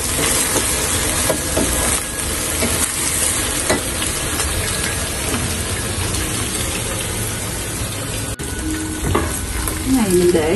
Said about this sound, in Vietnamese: Cái này mình để dầu cho nóng lên. Xong mình cho tinh trái rồi chiên